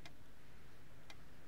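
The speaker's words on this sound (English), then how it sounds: "the ticking of the clock right now is. Wait, just listen." A clock ticks faintly in a quiet room, two crisp ticks about a second apart over a soft background hiss.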